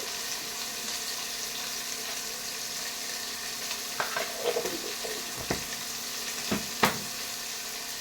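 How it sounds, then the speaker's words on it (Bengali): Green chillies and salt frying in a pan for vegetarian chow mein: a steady sizzle runs throughout, with clattering stirring knocks and scrapes bunching up in the second half. "এবার দিয়ে দেওয়া হচ্ছে কাঁচা লঙ্কা। অল্প একটু ভেজে নিয়ে দিয়ে দেওয়া হচ্ছে স্বাদ মতো নুন।"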